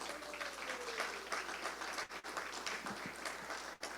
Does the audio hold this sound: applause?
yes